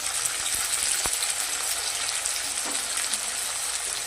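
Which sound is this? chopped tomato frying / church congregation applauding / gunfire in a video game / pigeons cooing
chopped tomato frying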